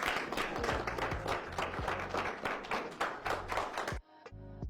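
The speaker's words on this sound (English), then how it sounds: "What the hell you clapping for, Rosalinda?" Audience applause from a crowd at a comedy stand-up show, a dense steady clatter of many hands lasting about four seconds, then cutting off abruptly into near silence with a few faint tones.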